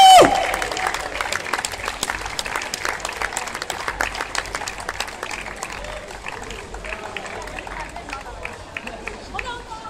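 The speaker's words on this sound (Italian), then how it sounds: "Let's make one really, really big applause for him." A large crowd claps and cheers loudly at a Guinness world record attempt; the applause bursts in at full strength and then carries on as steady, dense clapping with hubbub and a voice over it.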